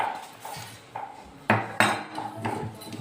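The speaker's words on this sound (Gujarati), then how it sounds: "તો આ સેવ પણ આપણે ઉમેરી દઈશું આમાં." Sev being added to bhakarwadi filling in a pan, heard as a few clinks and scrapes of a spoon against the pan, with two sharper knocks in the middle, close by and without speech.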